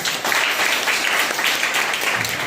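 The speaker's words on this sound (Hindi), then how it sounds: "तो जोरदार एक ताली बजाइए" A church congregation claps loudly at a Sunday service in a dense, continuous burst of applause that fills the whole moment without a break.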